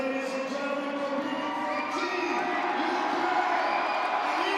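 Crowd cheering and shouting at the 2022 Arnold Strongman Classic as a dumbbell press competitor steps up, a steady broad roar that holds throughout with a commentator talking over it.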